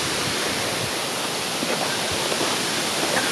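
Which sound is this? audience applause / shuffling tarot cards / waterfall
waterfall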